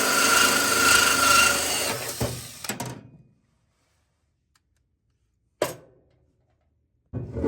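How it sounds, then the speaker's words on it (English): A hole saw cuts through a rubber grommet with a loud, rough grinding rasp that fades out after a few seconds. Two brief sharp knocks follow, separated by silence. "I drilled my hole, and I cut about a 1-inch hole in the middle of the grommet"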